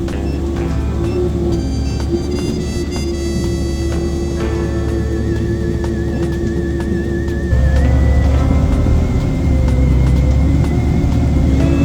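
A log skidder's engine drones loud and steady as the machine creeps at a crawl through muddy woods during slow skidding, rising slightly in pitch partway through, with no voices.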